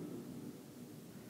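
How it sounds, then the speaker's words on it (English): Low, steady rumble of distant thunder during a storm after a lightning flash, faint and continuous with no nearby sounds or talk. "Can you hear the thunder?"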